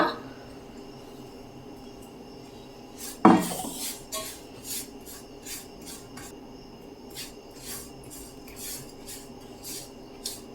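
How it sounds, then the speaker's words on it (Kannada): Ground almonds and cashews go into a pan for burfi, with a sharp metallic clank of a spoon against the pan followed by rhythmic scraping and tapping of utensils, fairly quiet and close. "ಇದಕ್ಕೆ ಸೇರಿಸೋಣ ಅದನ್ನ ಮಿಕ್ಸಿ ಮಾಡಿದ್ದಂಥ ಬಾದಾಮಿ ಮತ್ತು ಗೋಡಂಬಿನ"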